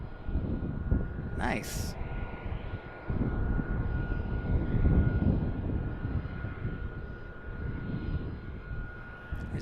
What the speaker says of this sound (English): There's our Cessna Sovereign.